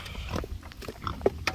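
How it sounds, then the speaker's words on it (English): Piglets at feeding time on a farm give short grunts and oinks mixed with chewing and bucket sounds, close by. "Well, we're gonna feed the piglets first."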